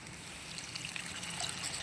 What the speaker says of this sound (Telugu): కొంచెం వాటర్ పోదాం